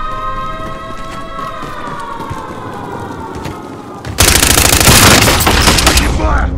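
Gunfire in Warzone on Rebirth Island: a siren-like tone sounds over scattered shots, then a sudden loud burst of rapid automatic fire erupts near the end and stays close and intense.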